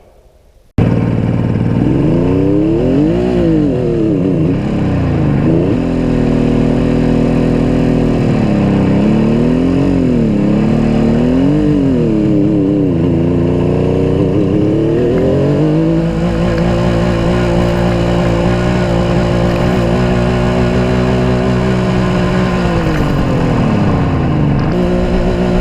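A 1972 Suzuki GT550 motorcycle engine starts abruptly, then revs up and down repeatedly before settling into a loud, steady high idle, close and continuous.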